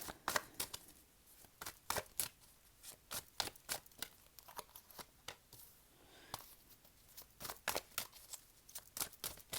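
Tarot cards are shuffled in quick, sharp riffles and slaps, close and crisp, in irregular bursts over a quiet background with no talking.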